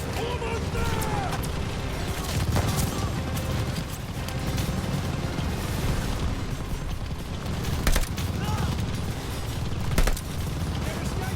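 Machine gun fire rattles through a Call of Duty Vanguard battle, dense continuous bursts with scattered booms layered under shouted voices and background noise throughout.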